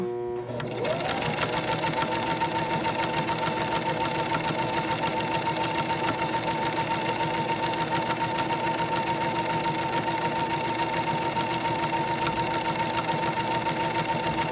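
A sewing machine stitches a lanyard in one steady, continuous run, a close, even mechanical whirr with a fast stitching rhythm that holds without pause from start to end.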